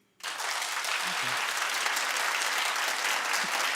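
An audience bursts into sustained applause after a moment of quiet, many hands clapping steadily and loudly throughout.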